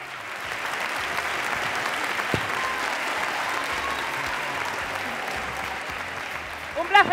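Audience applause for a guest at a televised gala final of a village beauty contest, a steady wash of clapping lasting several seconds, swelling slightly near the end.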